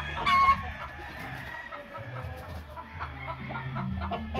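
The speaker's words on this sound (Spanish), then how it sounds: "El gallo es de los Lindell" A rooster and hen cluck close by on a farm, with a short loud call at the start followed by softer intermittent clucking over a low background.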